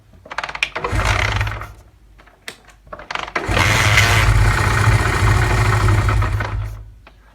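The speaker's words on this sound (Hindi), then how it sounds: "ये एंड पे दोस्तों एक आवाज़ आती है ऐसे गैस लीक हो रही हो।" A Honda CD 70 motorcycle engine with a carburetor air leak runs close up in two loud bursts separated by a short lull, a steady low chug under a broad airy hiss.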